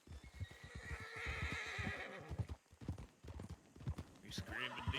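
A horse in a video game roleplay whinnies loudly while its hooves clip-clop in a steady rhythm, with a voice talking over part of it.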